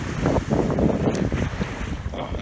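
Sea waves splashing against the shore, a close rushing churn of water mixed with heavy wind buffeting the microphone, continuous and fairly loud with no speech.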